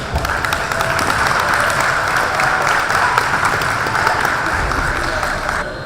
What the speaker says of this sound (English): How about a round of applause for all of our championship participants?